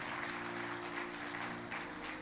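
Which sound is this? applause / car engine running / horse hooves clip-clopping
applause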